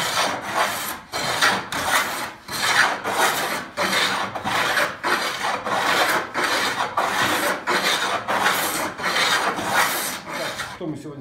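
A hand tool rasps back and forth across a solid oak tabletop being leveled for gluing. About a dozen steady, evenly paced scraping strokes are heard up close with no talking.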